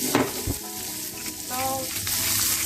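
Prawns (gambas) hit a hot pan with a loud burst of sizzling that settles into a steady crackling fry, close and alone.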